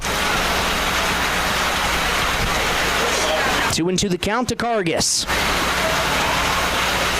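Steady rain falls during an American Legion baseball game, Milbank Post 9 at Sisseton Post 50, a dense constant hiss of drops on surfaces, with a commentator talking briefly in the middle.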